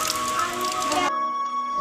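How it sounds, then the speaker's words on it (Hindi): Heavy rain pours in the mountains of Uttarakhand as a dense, steady hiss of close drops, cutting off abruptly to near quiet partway through. "उतनी तेज़ यहाँ पे बारिश भी हो रही है"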